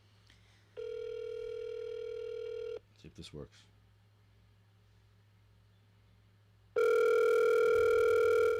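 A telephone dial tone sounds twice while calls are being merged, each a steady, loud continuous tone lasting a couple of seconds, separated by a brief spoken phrase and quiet line noise.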